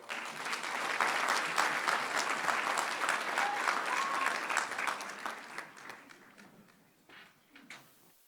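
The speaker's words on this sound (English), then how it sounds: "Let's give them another round of applause." A round of applause at a school board meeting, sustained dense clapping from the room that fades over the last seconds into a few lingering claps.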